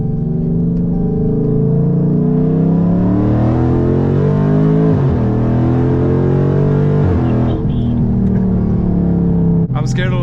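A Dodge Charger Daytona 392 V8 accelerating hard from inside the car, loud rising engine roar climbing through the revs with a dip at a gear change, then pulling again; a voice is briefly heard near the end.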